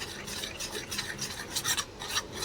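Thickened milk with milk powder is stirred in a pan, a soft continuous rasping scrape with rhythmic strokes, close and quiet, no voices.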